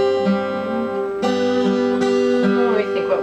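Guitar playing a song from Tangled in an advanced arrangement with a key change to D, sustained chords and melody notes ringing out clearly with a fresh attack roughly every second, no talking over it.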